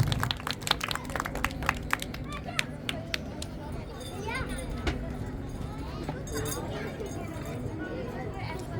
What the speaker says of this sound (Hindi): जोरदार तालियां आयु के लिए।